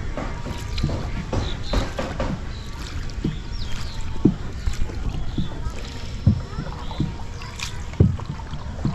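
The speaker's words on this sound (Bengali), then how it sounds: "তুমি অনেক সুন্দর নৌকা চালাইতেছো" A small wooden village boat rowed through rainy-season water, with rhythmic splashes and knocks of the oar recurring every couple of seconds over steady wind noise and faint background voices.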